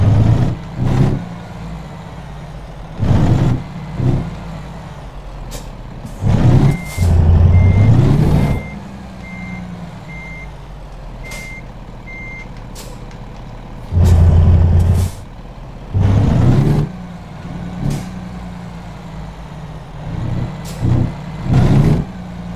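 A heavy truck in American Truck Simulator backs into a parking spot, with steady repeating reversing beeps over a low idling engine and several loud hissing air-brake releases, close and clear with no talk.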